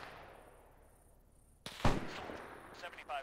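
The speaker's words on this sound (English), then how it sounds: "There's definitely shots." In a WWII video game, a single sharp gunshot cracks out after a quiet stretch, followed by a few fainter shots and echoes, with a voice heard briefly.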